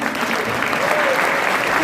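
A crowd of fans at a YouTuber's meet-up in Safi claps together, dense close applause that holds steady for a couple of seconds with faint voices underneath.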